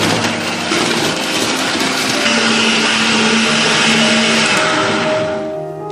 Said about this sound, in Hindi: अब इसको अच्छी तरह से ब्लेंड कर लेंगे 2-3 मिनट